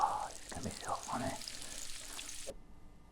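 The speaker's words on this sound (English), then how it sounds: "For that little joke, frying a single sausage." A single sausage fries in a kitchen pan, a steady close sizzle with soft spatter that cuts off abruptly, with people's voices mixed in over it.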